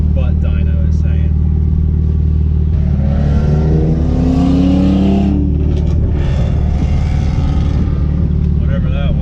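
Turbocharged car engine with an open downpipe, a loud rumbling exhaust that swells as the engine revs up midway and then settles, close by, with someone talking over it.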